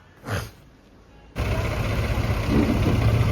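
A tractor engine, brought in to haul sand out of farm fields, cranks and catches into a loud, steady running rumble after a short quiet lead-in with a brief knock.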